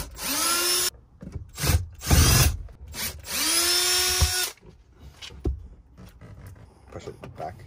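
Power driver backing screws out of plastic cargo-area trim in a vehicle during a Molle panel installation, two sustained whirring bursts with short pauses, followed by quieter handling clatter and knocks.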